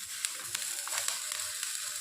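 Leaf-wrapped food frying in a pan gives off a steady, close hiss of oil, with small crackles and a few soft pops scattered across the sizzle.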